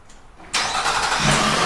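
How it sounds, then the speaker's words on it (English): A 2017-2020 Nissan Pathfinder engine starts by factory remote start: after a quiet moment the starter catches abruptly and the engine settles into a steady, close idle. "Car starts up."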